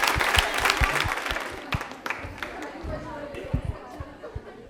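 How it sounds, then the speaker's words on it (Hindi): Studio audience applause for a woman contestant on a televised Women's Day quiz show, lively clapping with crowd chatter mixed in throughout. "एक बार तालियां मंजीत जी के लिए जोरदार हो जाएं।"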